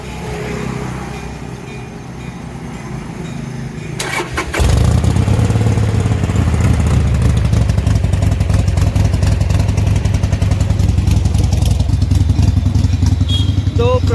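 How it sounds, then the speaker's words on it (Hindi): A motorcycle engine, its spark plug just tightened, cranks briefly and catches about four seconds in, then settles into a loud, close, steady idle with a rapid chugging beat. "और अभी बाइक स्टार्ट करते हैं, देखते हैं।"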